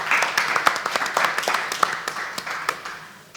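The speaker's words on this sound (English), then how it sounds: "Let's give them a round of applause." An audience at a fintech panel discussion claps for the guests, with scattered individual hand claps standing out as distinct sharp hits. The applause is fairly thin and uneven and carries on at a moderate level.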